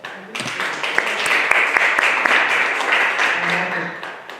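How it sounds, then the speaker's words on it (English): Warm applause from a modest audience at a jail ministry gathering in Onondaga County swells quickly and holds steady, with a few sharp individual claps standing out near the front of the room. "let's greet her with a round of applause"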